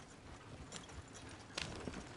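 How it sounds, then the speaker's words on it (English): Horses in the Red Dead Redemption 2 video game clop faintly on the ground, a soft, uneven hoof rhythm under steady ambient game noise, with a brief louder scuff near the end. "Shit, the horses! Damn horses!"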